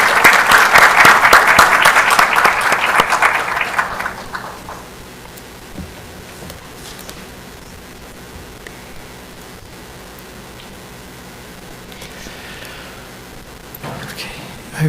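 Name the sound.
audience round of applause after a presentation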